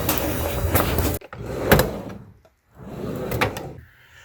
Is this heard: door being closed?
yes